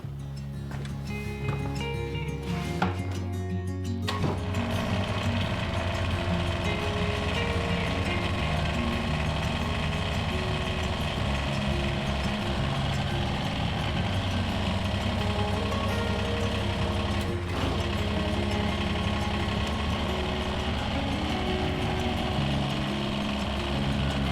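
A Kubota BX2380 tractor engine runs steadily at idle for the whole stretch, with a low rumble, mechanical clatter, and a couple of brief rattling bursts.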